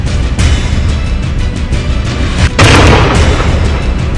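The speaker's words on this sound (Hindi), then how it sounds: "तीसरा धमाका" A loud explosion in Budgam, Kashmir erupts with a deep, crackling roar, then rumbles on over steady background noise.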